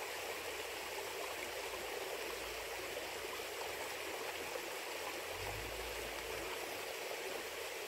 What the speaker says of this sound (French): Alors ici, cette petite rivière-là...